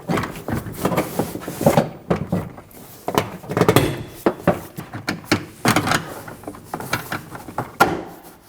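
Plastic interior trim clips are pushed and snapped into the liftgate of a 2015–2024 Ford Edge, giving a series of close, irregular knocks and thuds with short pauses between presses.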